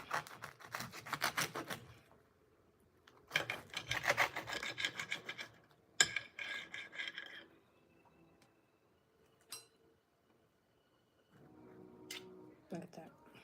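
A knife rasps through an English muffin breakfast sandwich with blackened oyster mushrooms in repeated close scraping strokes, in bursts separated by pauses and a few sharp knocks, with no talk over the cutting.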